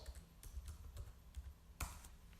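Faint keystrokes on a computer keyboard as a command is typed, a handful of light, irregular clicks set against a quiet room hum.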